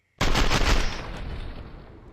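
A sniper shot in the video game Fortnite: one sharp, loud blast that cuts in suddenly and rolls off into a long fading echo.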